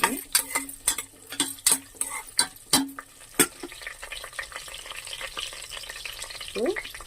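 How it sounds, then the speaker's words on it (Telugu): Cashews and chopped green chillies frying in oil, a series of sharp spitting pops and crackles over a low sizzle, busier at the start and settling into a denser hiss. "కట్ చేసుకున్న పచ్చిమిరకాయలు వేసుకోవాలండి జీడిపప్పు లైట్గా ఫ్రై అయ్యింది"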